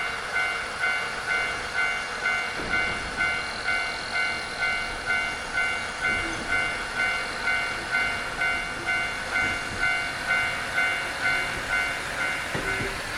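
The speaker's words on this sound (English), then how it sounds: "Looks like we're gonna we'll do a little train journey." Rail travel in the video game Nostalgic Train: a steady rolling rumble with a regular clickety-clack of wheels over track joints, constant in level and heard alone without speech.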